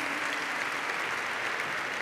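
At a university graduation ceremony, the crowd gives a graduate a continuous round of applause, a thick, uniform wash of clapping from many people without pause.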